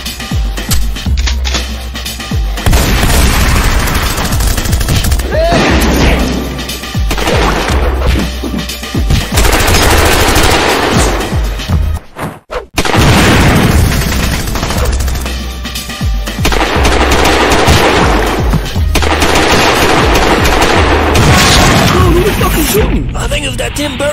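Machine-gun fire in a film shootout, sustained loud bursts of gunfire and crashes running almost continuously, with a brief pause midway, mixed with shouting voices.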